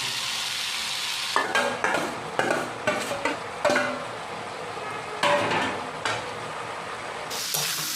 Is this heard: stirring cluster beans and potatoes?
yes